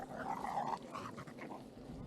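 Dogs growl low and brief at a unicyclist riding past, a faint snarl with a whimpering edge over quiet outdoor background.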